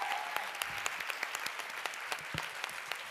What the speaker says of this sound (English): Please, ladies and gentlemen, a huge round of applause for these wonderful young women.